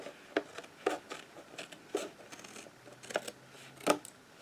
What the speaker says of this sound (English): So now I'm gonna go ahead and cut the excess.